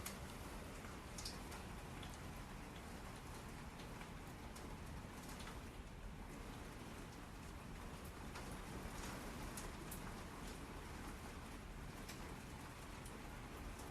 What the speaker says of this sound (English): Don't you just love the sound of rain hitting